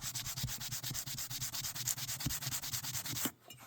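Sandpaper rubbing an aluminum cover plate for an old Vega guitar, fast steady back-and-forth strokes, close and continuous, stopping abruptly near the end.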